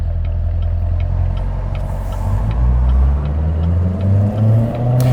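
A 650-horsepower 2019 Chevrolet Corvette C7 Z06 engine drones loudly and close while driving, its low harmonics climbing steadily as the car gains speed, with no talking.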